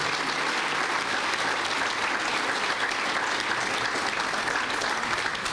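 Audience applause for Madison County Board chairman and member at a Veterans Honor Parkway ceremony in Highland, a dense, steady clapping from a crowd sustained throughout, loud and even.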